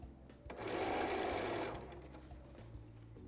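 A sewing machine stitches a sleeve into a bodice in one quiet, brief run that swells and fades, with the motor hum continuing softly around it.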